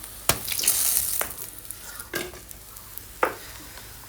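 Tengra fish being lifted out of frying oil for kalia: a soft background sizzle broken by several sharp scraping clatters of a utensil against the pan, spaced irregularly and close by.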